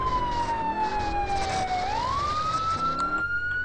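A police car siren wails in a chase in the video game GTA San Andreas, a single loud tone sweeping down and back up over a continuous engine rumble, with no talking.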